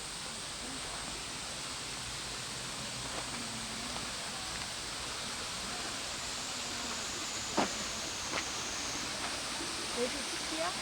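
Okyang waterfall at Baegaksan in Sangju gives a steady, soft, distant rush of falling water, with a few faint voices and small knocks over it.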